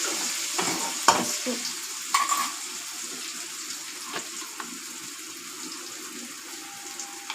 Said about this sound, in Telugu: కొంచెం పసుపు, అల్లం ఎల్లిగడ్డ పచ్చివాసన పోయేంత మట్టికి కలుపుకోవాలి.